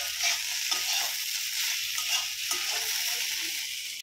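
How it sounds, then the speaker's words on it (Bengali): Okra frying in a pan, a loud, steady hiss of sizzling oil with faint occasional stirring scrapes, no voices. "এই যে প্রথমে বসিয়ে দিয়েছি ঢ্যাঁড়স ভাজা"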